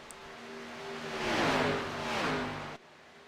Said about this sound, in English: You can hear the revs are a lot higher this time.